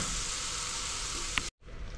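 Masala frying in a pan for shalgam palak sabzi, a steady loud sizzle with a brief scrape of stirring near the end before a short cut and the sizzle resumes.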